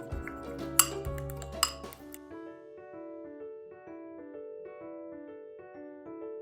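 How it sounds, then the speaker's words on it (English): A spoon clinks against a bowl while batter with maple syrup is stirred, a burst of close metallic scraping and sharp clinks, followed by a soft ringing tone and background music. "And then add our maple syrup. And then we're just going to give that a good mix."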